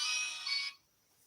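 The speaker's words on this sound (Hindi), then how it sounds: "जी देखू गीत सुनते के माथे में फोन चलि आयल" A phone ringtone going off during a live broadcast, a bright electronic tone sounding for under a second before cutting off, fairly faint.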